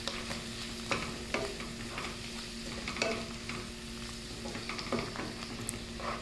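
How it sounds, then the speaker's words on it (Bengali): Spiced tuna bhuna, seasoned with chili powder, salt and a little cumin, sizzles in a pan while a spatula scrapes and stirs it in repeated strokes. The frying is close and moderately loud, with no talking. "তো তারপর এটাকে নাড়াচাড়া করে আমি একটু ভেজে নিলাম।"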